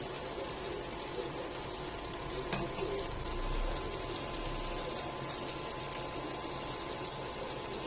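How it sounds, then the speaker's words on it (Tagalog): Milkfish and tomato stew (kinamatisang bangus) simmers in a covered pot, a steady soft bubbling hiss close by that runs without a break. "takpan po natin at hayaan natin kumulo hanggang sa maluto po yung isda"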